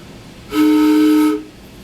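Two homemade PVC train whistles blown together sound one loud, steady, chord-like blast lasting under a second, close and alone.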